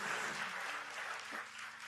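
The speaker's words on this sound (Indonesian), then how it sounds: "Loh, kok gak ada yang tepuk tangan buat Tuhan kita?" Dense, steady applause from a church congregation at an evening prayer service, a continuous wash of many hands clapping without pause.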